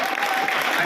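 Children clap at a girls' school event, a brief, dense burst of many hands clapping together, fairly loud and close, lasting under a second.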